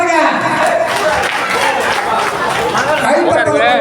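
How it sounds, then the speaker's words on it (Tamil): An audience at a state conference in Tiruvannamalai breaks into sustained, dense applause for a singer, steady and loud throughout, mixed with crowd chatter and voices. "அவருக்கு ஒரு கைத்தட்டல் கொடுக்கும்படி அன்புடன் கேட்டுக்கொள்கிறோம்"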